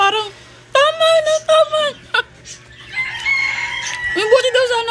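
A voice imitates a hen's cry while laying an egg, giving repeated harmonic squawks in short bursts that rise and fall, interleaved with clucking-like calls, loud and close.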